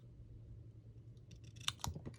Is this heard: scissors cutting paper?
yes